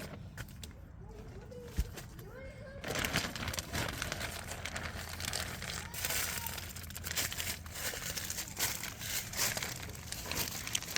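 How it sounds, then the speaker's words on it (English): Plastic sheeting pulled aside from a frost-covered garden bed, giving a close, continuous crinkling and rustling that grows louder after a quiet start. "just pull the plastic to one side"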